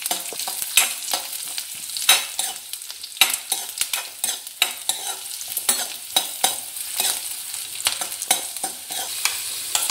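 Chopped vegetables tossed into browned onions in a pan, frying with a bright continuous sizzle punctuated by frequent sharp spatula scrapes and clicks, close and loud with no talking.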